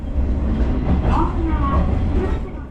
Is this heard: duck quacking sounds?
no